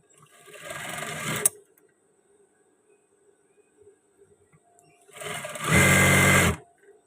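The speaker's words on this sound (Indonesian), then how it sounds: "Dan yang satunya juga saya jahit." A sewing machine stitches the seams of a men's shirt in two bursts, a short run of rapid mechanical chatter followed by quiet, then a louder, longer stretch of fast stitching.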